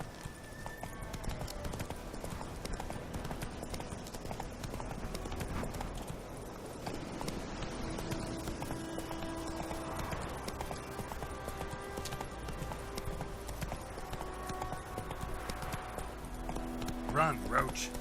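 Horse hooves clip-clop steadily as the mount trots through The Witcher 3 open world, amid game music and ambience, with a voice urging it on at times.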